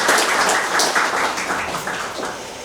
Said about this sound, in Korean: 우리 크게 한번 박수해 주시죠.